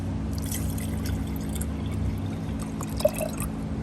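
Water pours into a crude oil tank during tank cleaning, making a steady, soft splashing flow over a constant low mechanical hum, with one brief drip-like blip near the end.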